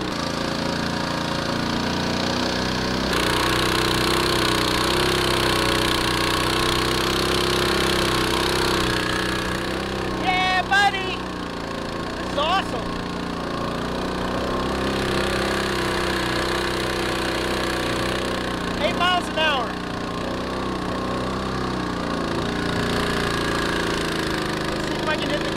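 An outboard motor drives a Pelican Bass Raider 10e fishing boat, holding a steady, droning engine note at close range over a long stretch while the choke is adjusted. Brief speech interrupts twice.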